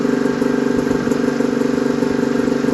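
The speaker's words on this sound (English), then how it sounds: "I'm in the snowmobile buggy. Snowmobile engine buggy." A snowmobile engine powers a custom 100 hp two-stroke crosskart buggy with CVT drive, running steadily up close with a fast buzzing pulse and no pauses.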